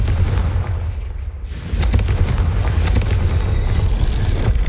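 In Hogwarts Legacy, a Confringo fire spell bursts into a loud, close explosion with a deep boom that rolls into a sustained roaring rumble.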